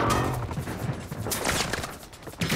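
Rapid bursts of gunfire crackle in Call of Duty, dense overlapping shots and impacts filling the whole moment, loud and close.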